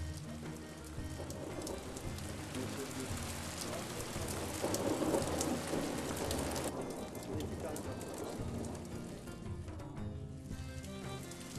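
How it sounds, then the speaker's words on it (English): Rain falls steadily on Black Lake as a dense, continuous patter with low rumbles of thunder mixed in, moderately loud throughout. "Under the rain, in the Black Lake, together with the rain, witness the touch of thunder on water."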